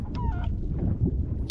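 Brief honking cluck from a chicken underwater in a pirate video game, a couple of short nasal calls near the start over a low murky rumble.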